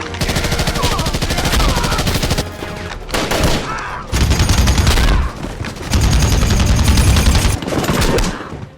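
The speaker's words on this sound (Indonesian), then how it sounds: "menggunakan senjata untuk menembaki mereka dan pertempuran sengit pun terjadi" Fierce battle gunfire from the 2008 film Rambo IV set against the Burmese military: loud, sustained automatic weapon fire in dense bursts with brief pauses between volleys.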